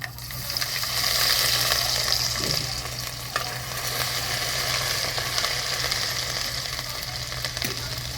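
Ginger and garlic frying in a pan for a village-style drumstick curry, a steady loud sizzle with faint stirring scrapes running throughout.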